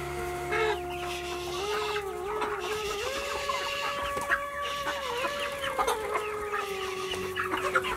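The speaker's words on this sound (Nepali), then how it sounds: "सोम दाईको फर्मबाट 1000 कुखुरा हालै बेचिसकेका छन्" Chickens cluck and a rooster crows steadily on a Nepali poultry farm with about 200 to 300 birds left after a sale, many birds calling over one another in a dense, continuous flock chorus with no talking.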